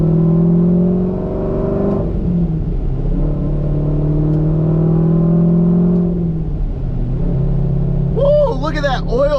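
A cammed C5 Corvette with a six-speed manual accelerates through gears, its deep engine note rising in long pulls with drops at the shifts, loud and close inside the cabin, and a voice briefly breaks in near the end.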